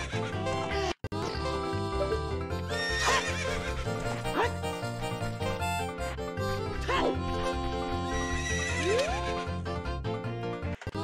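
A horse in Zelda Ocarina of Time neighs several times, clear and prominent, amid continuous game music and effects.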